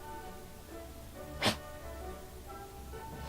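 A dog gives one short, sharp sneeze close by, a single burst over a low steady background hum.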